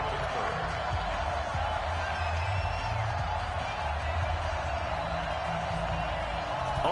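A steady roar from a stadium crowd at a Pittsburgh Steelers versus Cleveland Browns NFL football video game on PS4, continuous and dense throughout with no distinct peaks.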